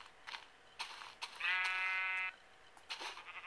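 A sheep bleats in the Minecraft video game: one clear, wavering bleat of about a second, moderately loud, set between soft clicks and light game sounds.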